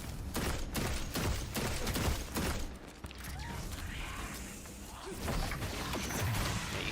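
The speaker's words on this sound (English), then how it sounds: "I'm liking the scout rifle from a distance" Scout rifle gunfire in Destiny 2, a dense run of rapid sharp cracks and mechanical clatter in the first half, then fainter scattered shots over a game ambience, with a voice briefly present.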